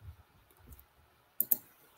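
Computer mouse clicks, a close pair of sharp clicks in quick succession followed by a lighter single click, over a faint low murmur of room noise.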